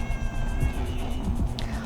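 A cat meows close by in the game Mouthwashing, a drawn-out plaintive call over a steady low hum of background noise, with no one talking.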